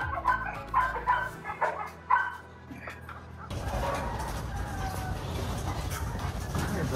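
Several puppies yipping and whimpering in short, high bursts close by, followed by a steady rustling background with faint chirps.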